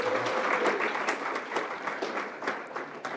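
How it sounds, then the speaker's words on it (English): Audience applause at a press conference for a national battle of the bands event in the Palm Beaches, steady dense clapping from a crowd lasting the whole stretch without talk. "Another big round of applause for Mr."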